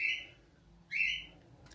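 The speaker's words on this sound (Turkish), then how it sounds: "Şimdi benim sesim duydu ya kuş da ötüyor." A small bird gives two short, bright chirping phrases, fairly near, separated by a quiet pause.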